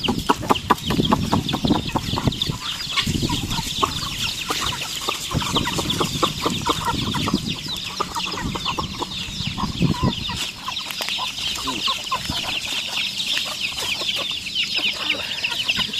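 Chickens on a poultry farm cluck continuously in a busy, overlapping chorus, with occasional sharper calls standing out from the steady flock noise throughout.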